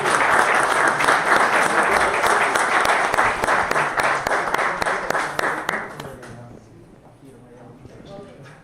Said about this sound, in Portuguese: Salve palmas aí.